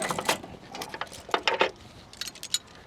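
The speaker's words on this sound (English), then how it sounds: "then we have one tie down strap" A ratchet tie-down strap on a boat trailer clicks and rattles in short mechanical bursts, close and fairly faint, with brief gaps between the clusters.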